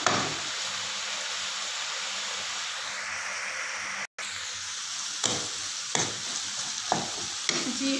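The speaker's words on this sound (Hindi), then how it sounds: "सिर्फ हम इनको सॉटे ही करेंगे।" Vegetables sautéing in a pan for a macaroni dish give a steady, close hiss of frying that cuts out for an instant, then resumes with a few light utensil clicks and scrapes.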